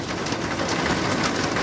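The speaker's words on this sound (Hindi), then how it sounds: "बहुत तेज़ बारिश हो रही है।" Heavy monsoon rain pouring down nearby, a loud, dense and unbroken roar with no voices.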